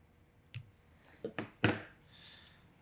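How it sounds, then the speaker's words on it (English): A few small, close snips while trimming the thread tag end during fly tying. Three or four short, quiet clicks fall within about a second, against near silence. "Trim off the tag end."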